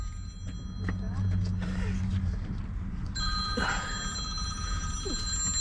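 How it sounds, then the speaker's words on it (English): A phone rings with a steady electronic tone partway through, over low rumbling background noise and a few faint voices. "Is that my phone ringing?"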